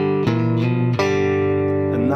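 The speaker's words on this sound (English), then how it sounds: "so it creates this little syncopated bass line." A guitar riff, with a syncopated bass line played under sustained upper notes in a few plucked attacks, close and clear, with no talking.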